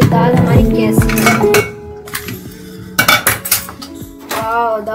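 Opening a pressure cooker of cooked chana dal brings loud, close metallic clanks, scrapes and clinks of the lid and pot in irregular bursts with brief pauses between them.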